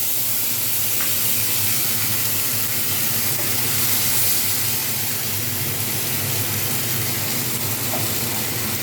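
Ginger paste hits hot oil in a pan and makes a steady, dense, loud sizzle that hisses evenly and without a break throughout.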